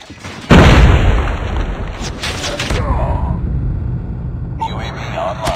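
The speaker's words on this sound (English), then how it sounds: "Friendly predator missile inbound." A Predator missile strike in a first-person shooter game lands as a sudden loud boom, then a long rumbling tail with scattered debris crackle and game noise, while a voice talks over it.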